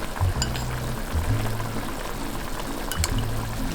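Cornstarch mixture being poured into a simmering sauce of Hakka yong tau foo. Soft liquid pouring and bubbling sound over low cooking noise, with a few faint clinks of utensils against the pan.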